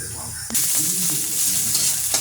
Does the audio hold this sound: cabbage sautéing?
yes